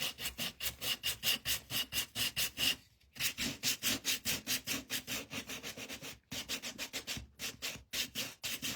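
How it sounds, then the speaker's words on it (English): Dense back-and-forth sanding strokes rasp steadily across a chunky wooden heart craft piece, loud and rhythmic with a few brief pauses, no talking. "I am gonna sand this."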